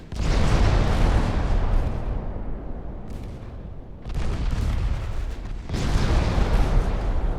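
Torpedo hits on warships in the naval game Ultimate Admiral Dreadnoughts, heavy booming explosions that roll on continuously, with two fresh blasts bursting in partway through, loud and close.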